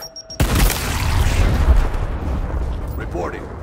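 In Gears Tactics, a frag grenade goes off with a sudden loud blast, then rolls into a long rumbling boom that slowly fades while a faint voice comes in near the end.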